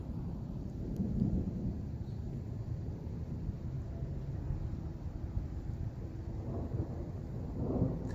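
Thunder rumbles low and faint during a Tucson rainstorm after a lightning flash, a soft rolling boom over steady background wash with a couple of swells.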